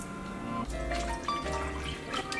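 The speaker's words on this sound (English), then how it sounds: "and then I put in some water." Water poured into a pan with a chicken stock cube, a short close splashing pour with shifting liquid tones and no talking.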